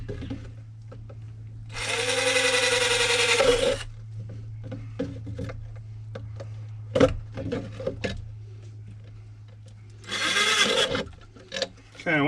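A power drill bores holes around the rim of a plastic bucket being made into a self-wicking planter, with two sustained whirring bursts separated by quieter handling noises and clicks.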